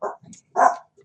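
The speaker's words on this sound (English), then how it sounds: "that's my dog." A dog barks twice, two short close yaps separated by a brief pause, loud and alone with a faint trailing sound after.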